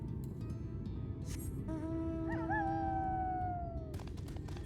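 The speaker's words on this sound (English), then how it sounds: "That is the night sound from Warcraft 3." Wolf howl from Warcraft 3 marking nightfall: a single long, rising-then-falling wavering howl with harmonics over a steady background bed of game ambience, fairly clear and mid-distance.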